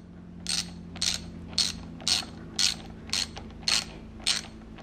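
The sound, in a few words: socket ratchet tightening a bolt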